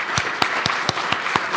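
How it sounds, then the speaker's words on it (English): An audience claps steadily at a live national read-along of the Bill of Rights, dense applause with a few sharp, evenly spaced claps standing out. "another round of applause would be just about right"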